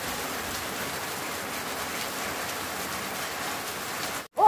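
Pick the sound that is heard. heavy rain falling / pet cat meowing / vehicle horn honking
heavy rain falling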